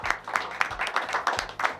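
Applause from a studio audience on a football talk show, clapping broken into uneven rhythmic bursts over a low musical hum, moderately loud and steady for about two seconds.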